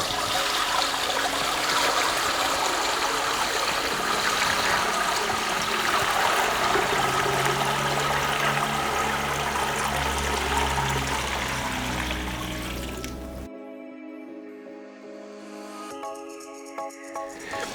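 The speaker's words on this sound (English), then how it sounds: "So I've got a bucket here. Pour that in. Pour it in quite quickly." Water is poured quickly from a bucket into an aquarium, a loud continuous rushing splash lasting over ten seconds before dropping away to a quieter trickle and bubbling.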